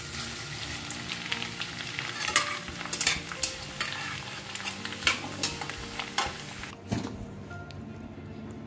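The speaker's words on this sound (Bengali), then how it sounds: "আজকে তেলে ভেজে বানাবো" Flattened rice fries in hot oil already used for fritters, giving a continuous sizzle broken by repeated scraping and stirring clicks from a utensil in the pan.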